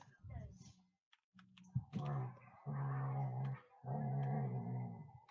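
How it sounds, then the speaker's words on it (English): Two poodles, one slightly bigger than the other, growl and scuffle in a low, rumbling fight with bursts of snarling and a few sharp clicks, fairly close and mostly alone without speech. "It's the slightly bigger poodle and the smaller poodle fighting."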